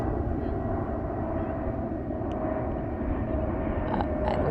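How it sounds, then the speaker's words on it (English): An aircraft flies over a park in London, a steady, fairly loud droning rumble that holds throughout, with a few faint higher clicks near the end. "we have an aircraft."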